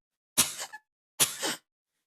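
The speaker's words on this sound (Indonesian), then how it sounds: "Ada orang batuk-batuk." Two sharp coughs from a person in a mosque study audience, each a harsh burst with a short tail, spaced about a second apart against silence.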